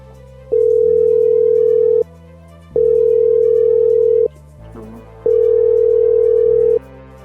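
A phone call goes unanswered, its ringback tone repeating three times as long, loud, steady tones separated by short pauses, with faint background noise and no voices.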